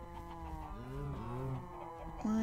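A cow in Minecraft gives a low drawn-out moo close by, followed by the start of another, with faint background noise.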